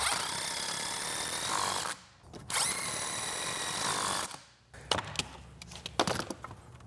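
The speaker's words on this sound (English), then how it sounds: "And then we should just be able to drive a couple screws in," Power drill driving screws into wood while building a custom paint booth, two sustained whirring runs close by, each ending abruptly, followed by a few knocks and clatter of handling.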